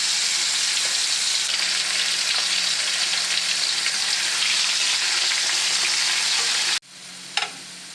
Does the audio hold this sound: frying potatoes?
yes